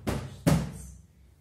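Two sharp hand slaps on a tabletop during a children's music lesson, close and dry, each ringing briefly before fading, with a short gap between them.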